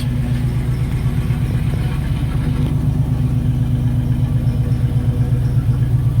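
A 1980 Chevrolet Camaro Z28 engine with dual exhaust idles steadily with a deep, throaty rumble and a rhythmic low pulse, running close by with no talking.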